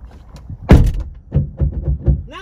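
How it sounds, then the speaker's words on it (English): A door thuds shut loudly, followed by a run of rattling clicks and clunks as it is locked, close by in an indoor space. "Look, I locked the door."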